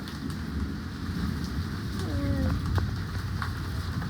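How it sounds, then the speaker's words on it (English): Heavy rain pelts a storm chaser car during a strong thunderstorm, a dense steady hiss and patter with gusting wind noise rumbling underneath throughout. "It started to rain harder."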